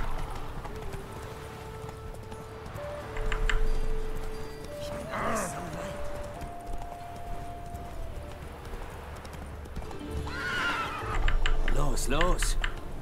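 Horses in a stable in The Witcher 3: Wild Hunt, with hoof clip-clops, shifting movement and a couple of neighs and whinnies, while someone talks over the game sounds.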